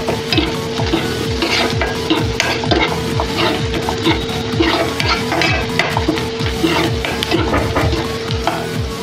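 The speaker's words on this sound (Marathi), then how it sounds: "कांदा छान लाल परतून द्यायचा। त्यात थोडंसं आपण इथं बटर टाकूया।" Chopped onions frying in butter for a Marathi spinach (palak) bhaji with tomato, sizzling steadily while a spoon scrapes and stirs in a quick repeating rhythm, close and loud with frequent clinks against the pan.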